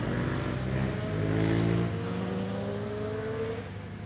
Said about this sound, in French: laisse passer les motos.